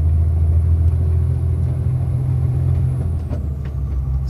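A loaded truck engine held under steady throttle with the foot resting on the accelerator, a loud, continuous low diesel drone close by, with a thin high whine that slides downward and a few faint clicks near the end.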